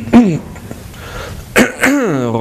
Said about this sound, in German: Räusper.